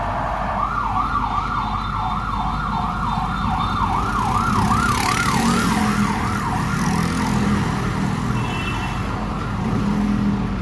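An ambulance siren wails in a fast, repeating rise-and-fall pattern, fairly close, over steady traffic rumble for about ten seconds.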